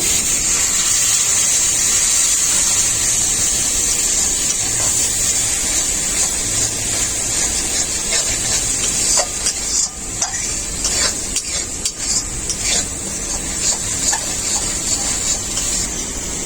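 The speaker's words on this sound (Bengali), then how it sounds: "মশলাটা ভালো করে কষানোর জন্য অল্প একটু জল দিয়ে দেব।" Lentil dal masala of turmeric, chilli and cumin powder frying in a pan as a little water is added, giving a steady loud hiss and sputter with brief crackles and stirring scrapes toward the end, no voices.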